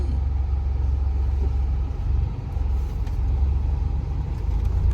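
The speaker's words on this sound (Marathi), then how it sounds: "गाडी आली, त्याला साईड दिली." A car passes on a narrow lane on the way to the Devgad windmill garden in Konkan, heard as a steady, close engine rumble that swells and eases over several seconds with no talk.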